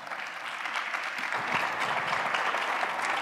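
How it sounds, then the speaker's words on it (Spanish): A large audience at a tourism conference breaks into continuous applause, a dense, even wash of clapping that stays steady and moderately loud throughout. "Un aplauso, por favor, también para ella"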